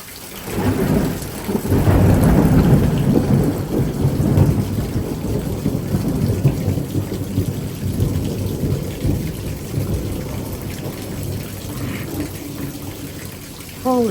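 Severe thunderstorm with 30 mph wind gusts and heavy downpour: a long, loud, rolling thunder rumble over steady hissing rain, slowly fading, with a brief faint squeak near the end.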